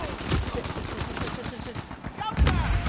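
Gunfire rattles in Uncharted 4 multiplayer, a dense series of close, loud shots in quick bursts with a heavier blast near the end, while players talk over it.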